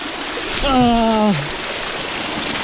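A river flows beside a mountain trail in Kibungan in the Cordillera region, a steady close rushing wash of water, with a voice briefly calling out over it.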